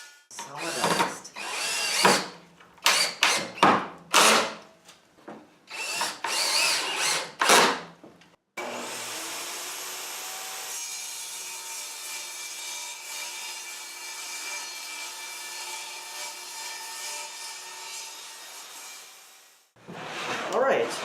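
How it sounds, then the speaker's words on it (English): Bosch GTS1031 table saw crosscutting wood: several short bursts of cutting and handling noise give way to one long, steady whining cut that lasts about eleven seconds before it spins down. "Alright, crosscuts,"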